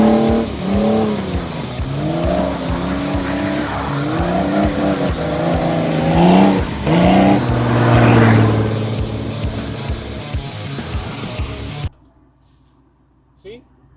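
A 1993 Mercedes G350 turbo diesel G-Wagen, a 463-series all-wheel-drive truck, runs with a steady low engine drone beneath continuous close talking, then cuts off abruptly near the end, leaving near silence.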